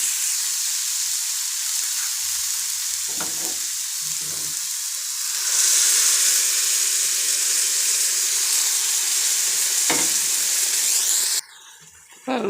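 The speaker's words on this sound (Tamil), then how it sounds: "இப்போ நம்ம வேக வச்சுருக்க பாசிப்பருப்பை இதோட போட்டுடலாம்." Cooked moong dal goes into a hot pan for a bachelor-style dhal and is stirred, giving a constant frying hiss and sizzle with a few scraping stirs, which briefly cuts out near the end.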